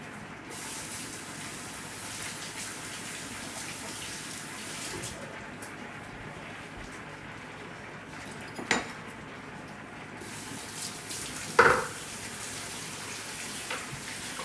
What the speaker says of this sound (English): I'm using the same spoon for both of these things, just washing it a little bit in between.